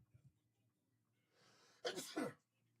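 A single loud sneeze close up, preceded by a sharp intake of breath, in an otherwise quiet room.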